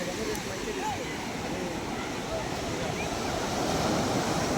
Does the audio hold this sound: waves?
yes